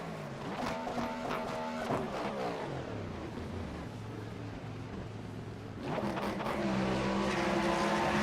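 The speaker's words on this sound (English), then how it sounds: "Bro, did you see how far it just slides?" A race car in the sim racing game iRacing skids and slides with long tire squeal over a steady engine roar, then revs back up louder, with no talking.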